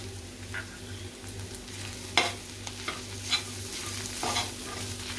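Turmeric and homemade Koli masala stirred into softened onion and tomato frying in a pan, a soft continuous sizzle under a low hum, with a few scraping spoon strokes close by.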